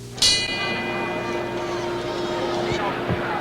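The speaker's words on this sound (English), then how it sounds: "And now the bell for round 6." A boxing bell rings out sharply once to open round six of Muhammad Ali versus Joe Frazier, its bright metallic tone decaying slowly over a loud, steady arena crowd roar.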